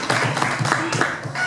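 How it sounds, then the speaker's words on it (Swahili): Applause breaks out in a hall at a party gathering in Morogoro as the regional chairman is welcomed, a steady dense wash of clapping with voices mixed in. "makofi mengi sana kwake"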